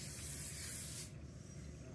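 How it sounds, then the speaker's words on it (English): A close, steady hiss of spray glue from an aerosol can lasts about a second, then cuts off and leaves quiet room tone. "put a little glue spray here."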